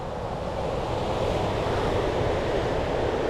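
Strong sea current and waves at a coastal fishing spot make a loud, continuous rushing roar, mixed with steady wind buffeting the microphone and no pauses throughout.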